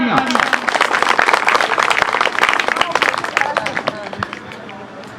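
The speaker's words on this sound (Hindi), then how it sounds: "जोरदार तालियां।" An audience breaks into loud, dense applause right after a poem is recited at a Republic Day (26 January) event, with crowd chatter mixed into the sustained clapping throughout.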